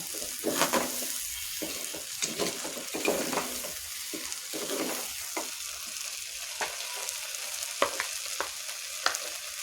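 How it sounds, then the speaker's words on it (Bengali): Mung dal khichuri gets stirred in a frying pot, a continuous low sizzle broken by irregular scrapes and taps of the spoon, close and fairly quiet. "এখন আমি ভালোভাবে এটা নেড়ে চেড়ে নেব"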